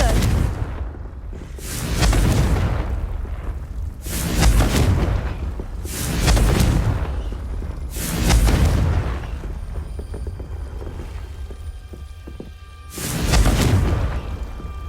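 Blasting-spell explosions in the game Hogwarts Legacy: five loud, booming bursts spaced roughly two seconds apart, each swelling and then fading over a steady rumbling background.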